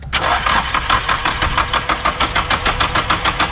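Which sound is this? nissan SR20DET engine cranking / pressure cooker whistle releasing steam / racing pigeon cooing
nissan SR20DET engine cranking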